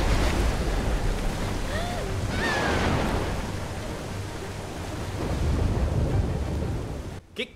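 Water in The Walking Dead Season 2 remaster by Telltale Games, a steady, loud wash like surf or heavy rain with low rumbling, running throughout and cutting out near the end, no talk.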